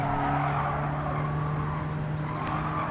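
A 2014 Peugeot race car in Gran Turismo 7 holds a steady engine drone while cornering through the S-bends of Dragon Trail, with a brief higher squeal near the end.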